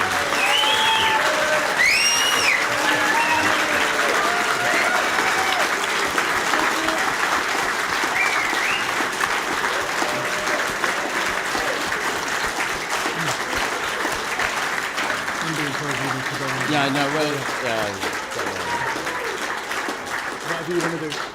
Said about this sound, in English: if we could show them all our respect with huge applause